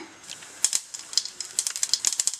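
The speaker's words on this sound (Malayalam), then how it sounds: "കടുക് പൊട്ടാൻ തുടങ്ങിയിട്ടുണ്ട്" About a quarter teaspoon of mustard seeds pops in hot oil in a pan, sharp crackling pops arriving sparsely at first, then faster and denser, close and alone without talk.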